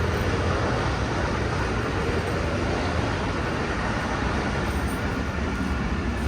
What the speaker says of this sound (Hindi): देखें रेलगाड़ी भी आ चुकी है।